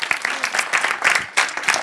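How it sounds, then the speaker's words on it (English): An audience gives a round of applause for contestants at a competition: uneven bursts of many hands clapping, with loose rhythmic peaks that swell and dip before briefly thinning near the end. "Big round of applause for everybody."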